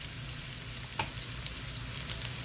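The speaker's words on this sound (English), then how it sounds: "They're sizzling pretty good." Steady, dense sizzling of six burgers frying in a hot pan, with crackles and pops throughout, close and fairly loud, no talking.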